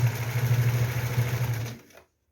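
A sewing machine stitching hemp cord into a basket: a steady, fast mechanical whir and hum for about two seconds, close and moderately loud, then stopping abruptly into silence.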